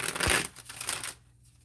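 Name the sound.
shuffling a deck of tarot cards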